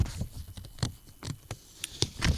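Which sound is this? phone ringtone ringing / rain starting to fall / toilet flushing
rain starting to fall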